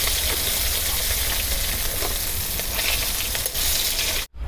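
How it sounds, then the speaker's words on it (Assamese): Rohu fish frying in oil in a wok, a loud close continuous sizzle with bubbling crackle throughout, ending in a sudden brief cut-off. "এনেকৈ মই মাছখিনি সম্পূৰ্ণ ভাজি ল'লোঁ"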